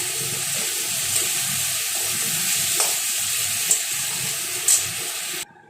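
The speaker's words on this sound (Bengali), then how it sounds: "এরপর আমি গরম জল ঢেলে দিয়েছি" Hot water pours steadily into a pan of frying fish curry, a continuous splashing hiss with light sizzling that lasts several seconds before stopping abruptly.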